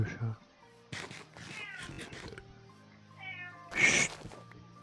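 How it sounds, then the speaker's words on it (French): Cat meowing several times in a quiet room, drawn-out wavering meows alternating with someone speaking French, ending with a louder sharp cry. "Ta gueule le chat."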